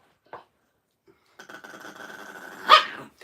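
A dog barks indoors in a home while someone tries to give dogs medicine: one short sharp bark, then a busy stretch of dog noise rising to a loud peak, close by with no speech over it.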